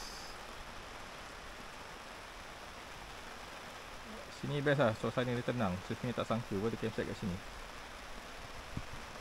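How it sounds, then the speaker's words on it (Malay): Light drizzle falls at a forest campsite in Bukit Tinggi, a faint steady hiss of rain running throughout while someone speaks quietly over it partway through. "hujan dah turun. Tak lebat lah, dia renyai-renyai, gerimis."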